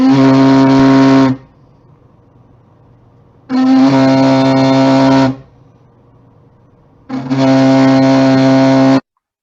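A loud, harsh buzzing drone with strong harmonics from an unstable haptic device sounds in three long bursts, separated by near-silent pauses.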